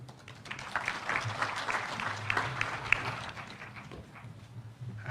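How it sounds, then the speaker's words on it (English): Audience at a development partnership forum in Karen, Nairobi, gives a sustained round of applause, moderately distant and steady, with a low background hum underneath. "Let's give another round of applause."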